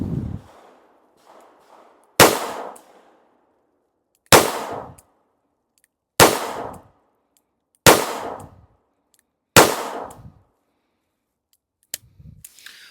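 A J-frame revolver firing Hornady Critical Defense rounds on a range, about six sharp, loud shots spaced roughly two seconds apart, each with a short decaying echo, plus a fainter click near the end.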